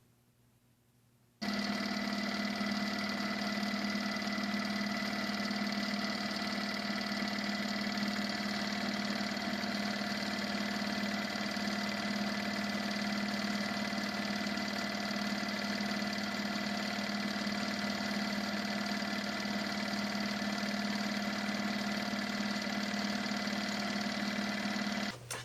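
A Baby Lock Tiara II sewing machine starts after a quiet moment and runs continuously at steady speed for over twenty seconds, a close, even mechanical whir with a strong hum and no talking.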